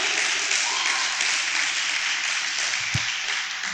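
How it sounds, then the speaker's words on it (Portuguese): A dense, steady round of applause from a gathering at a sermon fills the whole stretch, even and fairly loud, with one dull thump near the end. "Dá uma salva de palmas, velho."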